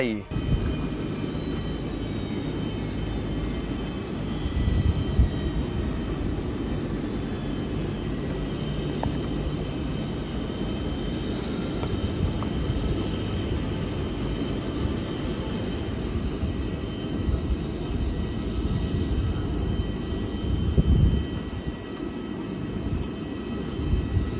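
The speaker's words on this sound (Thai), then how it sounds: "นายอนุทินได้ขับเครื่องบินส่วนตัวสนับสนุนทีมแพทย์ ในการรับส่งอวัยวะจากพื้นที่ต่างๆทั่วประเทศ" A private aircraft flown on an organ-transport mission drones with a steady, continuous engine rumble throughout, close and fairly loud, with no clear speech over it.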